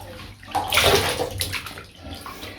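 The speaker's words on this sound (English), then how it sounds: "So just going to dunk it in the water," A doll's fine hair is dunked into water, making a close sloshing splash that swells and then fades into lighter dripping and swirling.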